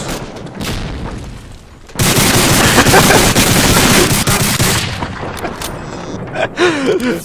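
Grenades explode in the WWII shooter Medal of Honor Allied Assault on the Southern France map, a loud sustained burst of booms and crackling blasts with gunfire in the background.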